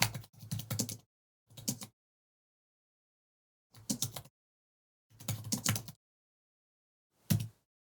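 Short bursts of typing on a Mac keyboard, an email being written in Microsoft Outlook, with quiet clusters of key clicks separated by silent pauses, close and soft.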